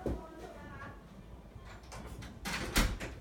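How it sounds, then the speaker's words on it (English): A hotel room door swings shut at a PAX East convention demo, giving a single fairly loud thud and rattle near the end after a stretch of quiet room noise. "Let me close the door."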